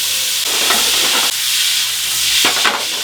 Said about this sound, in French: Et merguez dans la poêle.